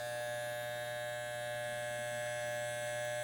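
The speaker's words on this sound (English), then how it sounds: "I come down to the t-shirt line and we shave up, and I stop about an inch below" Electric hair clipper running while shaving up a neckline from the t-shirt line, a steady close mechanical buzz with a tonal hum, even and unbroken, no talk.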